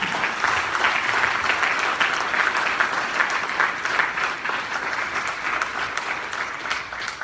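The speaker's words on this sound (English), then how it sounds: "Please give them a round of applause." Dinner audience honoring the volunteers of the year with a round of applause, a dense, steady wash of clapping that stays loud and even for several seconds with no voices standing out.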